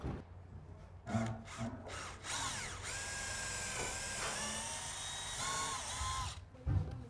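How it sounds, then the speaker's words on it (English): A power drill pre-drills a hole in wood in a sustained run, its pitch rising and falling as it bores, with brief bumps and handling noise before and after. "so pre-drill a hole"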